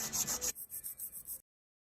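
An 80 grit nail file rasping across nails in quick, even back-and-forth strokes, about eight close, faint scrapes in a row, then silence.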